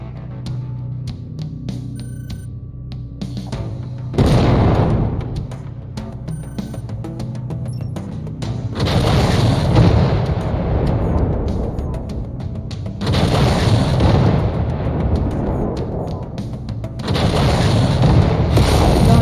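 Heavy mech weaponry firing in the MechWarrior 5: Mercenaries video game, loud booming bursts in several long roaring volleys separated by brief lulls, with a constant engine-like hum underneath.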